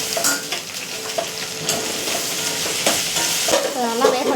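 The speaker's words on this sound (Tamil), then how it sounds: "இப்போ தக்காளி போடுவோம்" Tomatoes hit sautéed onions in a hot pan and fry with loud, close sizzling, while a spoon scrapes and stirs in uneven strokes, with no talking.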